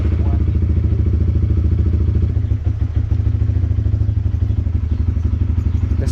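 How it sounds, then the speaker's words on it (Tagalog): A Honda CB150X motorcycle engine runs steadily on a test ride, its loud, close, even pulsing drone dipping slightly partway through before carrying on at a constant pace. "So bali, test drive pala ni tropa yung motor para ma-check din kung okay yung takbuhan nito"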